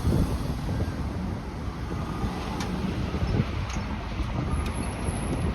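Gusty wind on a Toronto street at Yonge and St. Clair, a constant low roar of microphone buffeting with faint traffic behind it, steady and fairly loud with no talking.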